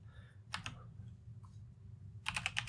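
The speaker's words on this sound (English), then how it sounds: "I want so bad to just type terminal into this" Quiet typing on a computer keyboard, with a short quick burst of key clicks early on, a pause, then a tighter flurry of keystrokes at the end, close and isolated with no talking.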